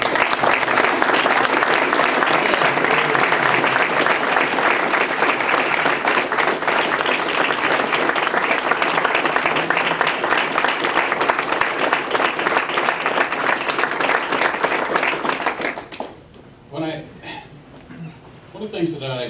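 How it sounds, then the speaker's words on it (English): Sustained applause from a banquet audience at a sales center recognition dinner, a dense continuous roll of many hands that fades near the end as a voice begins speaking. "we'll just give her a round of applause and thank her."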